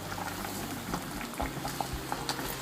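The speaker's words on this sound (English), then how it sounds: "So now the soup is coming to a boil" Fish soup bubbling at a steady boil in a pot, a continuous close wash of liquid churning with small pops and gurgles throughout.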